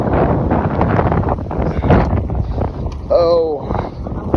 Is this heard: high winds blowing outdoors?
yes